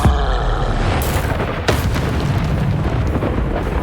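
Bombardo spell exploding in Hogwarts Legacy: a loud, deep blast with a long rumbling tail, a second sharp burst following shortly after, close and alone without speech.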